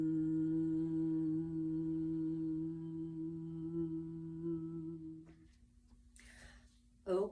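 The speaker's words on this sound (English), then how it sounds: "or you can just hum, making the M sound like this" A voice holds a steady, low humming tone on an M sound for about five seconds, then a breath and a short word follow.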